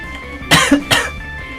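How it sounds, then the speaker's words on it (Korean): Two harsh coughs close to the microphone, one right after the other, with a brief throaty catch between them. "저 기침 계속 해가지고 감기 걸려서"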